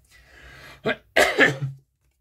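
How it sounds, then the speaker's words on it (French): A person with a lingering cold coughs alone indoors: a faint breathy lead-in, one short sharp cough, then a louder double burst that trails off into a throaty rasp before silence. "Je tousse encore, c'est quelque chose de fou"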